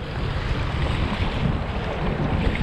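Strong wind of about 20 knots roaring steadily across a bridge on a freezing night of fishing, a dense, constant rush that buffets the microphone with no voices.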